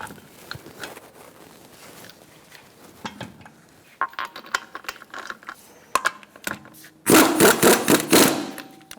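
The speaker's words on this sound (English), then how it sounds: "Install your wheel. Start your lug nuts by hand." Wheel going back onto a Buick Encore and lug nuts being threaded on by hand, with scattered metallic clicks and ratcheting, then a loud burst of rapid clattering near the end.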